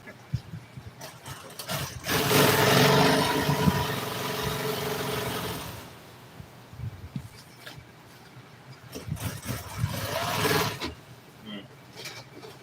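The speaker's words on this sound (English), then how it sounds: "I don't want that glue face down getting all over my table, so I'm sewing it upside." A sewing machine stitches an upholstery piece for a TR car seat in an auto interior shop, running in two bursts of fast mechanical whirring separated by quieter handling noises, close and moderately loud.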